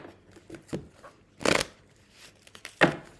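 Playing cards shuffled in several short, crisp riffling bursts, with quieter taps and handling sounds between them, close and fairly quiet.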